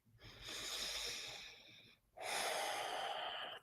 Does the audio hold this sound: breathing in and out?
yes